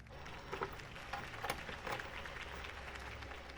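Crowd applause in the video game Batman: The Telltale Series, a moderate, steady wash of clapping with a few louder bursts, heard at a slight distance with no talk over it.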